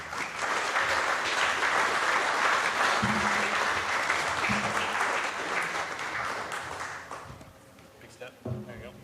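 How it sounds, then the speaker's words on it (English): An audience at a tour event in Johnson City, Tennessee applauds loudly for about seven seconds, a dense sustained wash of clapping that fades out, with a few voices talking as it dies down. "A little round of applause for Grace."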